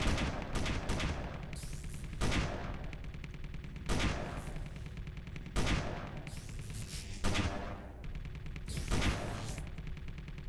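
Turret gunfire in the video game Space Engineers, loud repeated bursts of rapid shots roughly every two seconds, each burst a cluster of cracks over a constant rumbling bed.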